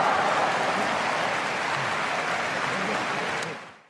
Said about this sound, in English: The crowd pop you heard at the end of that clip was when Hikuleo and Tonga embraced